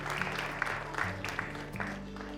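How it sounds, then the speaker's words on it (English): Wedding guests give the happy couple a brief round of applause at an autumn ceremony in a manor, a modest patter of clapping over a low hum and music. "let's have a quick applause for the happy couple"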